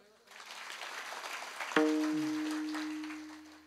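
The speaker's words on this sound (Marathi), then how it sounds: "सर्वांना एकदा टाळी वाजवा बरं." An audience claps together through a broadband wash of applause at a spoken gathering, and a sustained tonal note suddenly enters midway and rings on under the clapping.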